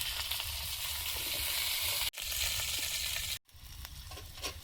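Green beans and pointed gourd sizzling in a pan as they go in, a steady broad hiss of frying that cuts off briefly twice and then resumes a little quieter.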